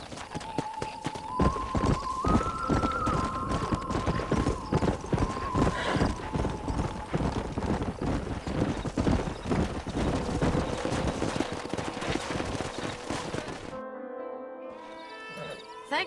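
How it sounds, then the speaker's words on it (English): Horse hooves clip-clopping steadily at a gallop in the Red Dead Redemption video game, a dense rhythmic patter with an occasional whinny, ending in a brief quieter stretch. "We got some fine horses."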